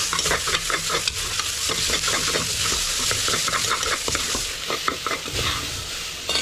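Onion and tomato sautéing in a pan for river crab soup, cooked outdoors: a loud, dense sizzle with rapid, rhythmic scraping and tapping from a stirring utensil, close up and continuous, no talking.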